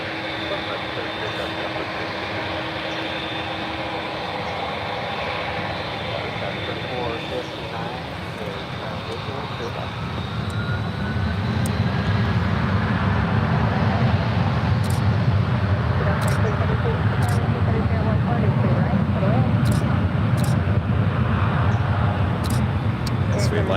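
A jet airliner at San Francisco International Airport roars on a runway close up, its engine noise swelling and holding loud and steady for many seconds while people keep talking over it.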